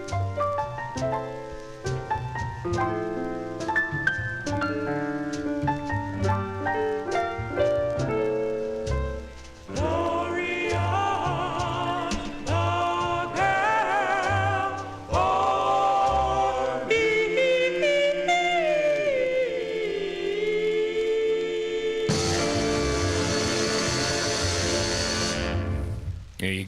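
Full-band 1956 doo-wop record, with steady rhythm, backing vocals and instruments playing throughout, ending in a loud closing chord.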